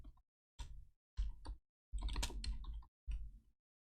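Quiet computer keyboard typing and mouse clicking, several short separate bursts of soft clicks with silent gaps between them.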